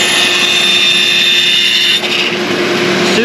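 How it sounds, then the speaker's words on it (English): A bandsaw runs loud and steady, a continuous high whine and hum close by while it cuts curves in Coosa board, with a shop vac running alongside. "I want to show you how easy a bandsaw can cut"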